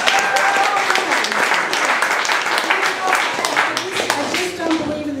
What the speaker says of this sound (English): Can I get a clap on that,